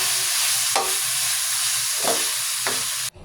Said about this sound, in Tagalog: At saka naman uli natin i-continue yung paghalo hanggang sa manuot lahat yung inilagay natin na pampalasa.